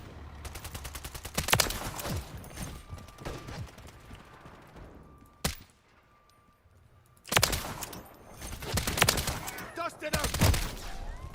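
Rapid bursts of automatic gunfire from a video game shooter rattle loudly, pausing into near silence around the middle before heavy firing resumes, with faint voices underneath.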